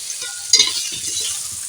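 Potatoes and a little turmeric fry in oil in a pan and get stirred, with a bright, steady sizzle throughout and a brief louder scrape of the spoon near the start, no talking.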